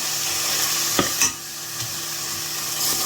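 Masala powder being stirred into a pan over a low flame for a Tamil-style ladies' finger (okra) kuzhambu, giving a soft steady scraping sizzle with a couple of brief spoon knocks near the start.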